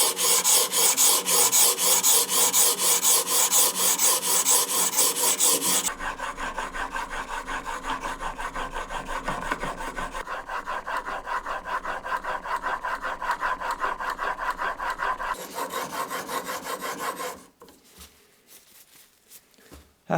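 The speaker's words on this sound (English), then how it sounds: "Then the honing guide goes on and I can just start sharpening." Blade held in a honing guide being pushed back and forth across an oiled 300-grit sharpening stone, a rhythmic, close scraping rasp that grows quieter partway through and stops near the end.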